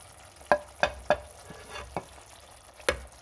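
A spoon stirs powdered spices into a sizzling puree for dhaba-style dum aloo, giving a few sharp scraping knocks against the pan over a soft, steady frying hiss.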